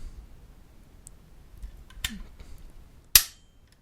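A Ruger Precision Rimfire rifle handled and dry-fired on a snap cap gives a few small mechanical clicks and then one sharp, close snap of the falling firing pin.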